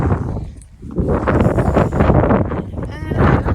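Gusty, cold wind buffets the microphone in loud, rumbling waves, swelling and easing over a few seconds outdoors in Scotland.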